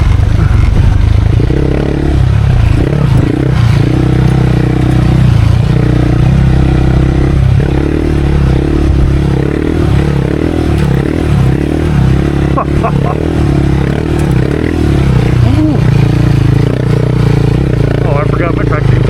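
A KTM 390 Adventure fitted with Hyperpro springs rides through a sand wash, its engine droning loud and close with clattering and scraping under the rider's talk.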